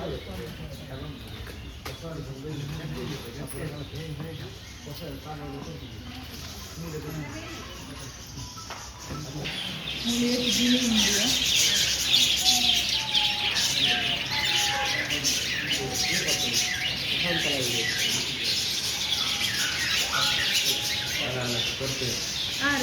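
Parrots call with repeated sharp squawks and chirps, sparse at first and then louder and more frequent, mixed with people talking nearby.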